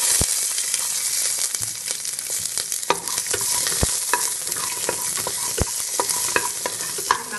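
Fennel seeds, cinnamon, cloves and shallots sauté in hot oil for mutton soup, giving a dense, loud continuous sizzle with frequent clicking spatters and occasional utensil taps, close up and without talk.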